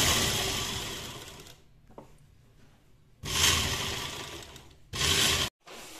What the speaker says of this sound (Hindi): इस पे एक सिलाई चलाएंगे ऐसे करके, मोटा मोटा बखिया करके ले एक सिलाई चला देंगे ऐसे करके।